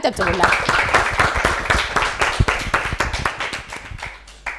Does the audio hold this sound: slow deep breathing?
no